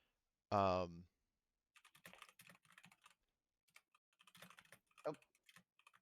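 After a brief voice, light keyboard typing clicks away in quick, irregular bursts, fairly faint and close.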